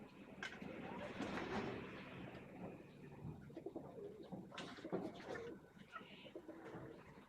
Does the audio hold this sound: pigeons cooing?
yes